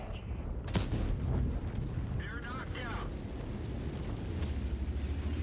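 A CS-63 medium tank fires its gun in World of Tanks, one sharp near blast followed by rumbling battle noise and engine drone, with someone talking over the game sounds.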